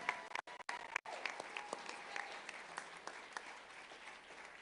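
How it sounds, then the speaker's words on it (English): A crowd claps at a GOP election night rally, a dense, even patter of applause heard from a distance, fairly faint, holding steady without a break and without any voices. "we need to give him a big round of applause for that"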